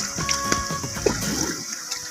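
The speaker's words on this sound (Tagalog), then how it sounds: "ang lakas ng daloy ng tubig din dito galing doon sa may likod namin" Flood water from nonstop rain surges through an open canal beside a flooded street, giving a strong, continuous rushing and churning close at hand with no talk.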